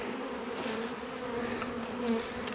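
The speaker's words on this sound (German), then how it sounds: "Operation Bienenschwarm." A large swarm of honeybees, about three kilograms, drones steadily at close range while being swept into a hive box, a dense continuous hum with slight swells and no voices.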